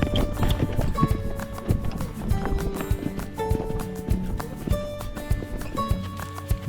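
Horse hooves clip-clop steadily at close range, heard from a camera mounted on the horse, an irregular walking rhythm with busy rustling and creaking around them.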